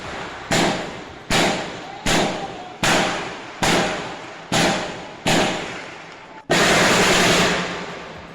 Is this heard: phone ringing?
no